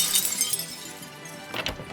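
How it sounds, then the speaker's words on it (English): Glass in a front door smashing, a bright crashing shatter with tinkling fragments that fade, then a second burst of breaking near the end. "the next thing we heard was the glass in the front door smashing"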